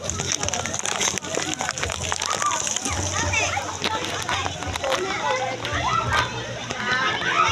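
Water splashes and sloshes in a swimming pool amid children playing, with continuous splashing, scattered shouts and chatter from several voices nearby.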